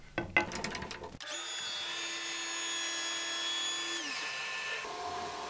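A table saw cuts a kerf line in wood for a hexagon cutting jig, the blade's high whine holding steady for a few seconds before winding down, close and loud with no talk.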